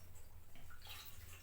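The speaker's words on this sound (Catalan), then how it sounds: "I com tinc el foc encès, simplement li ficaré aigua." Water gushes into a steel pot set over a fire, a faint, continuous splashing pour with small bubbling variations and no speech.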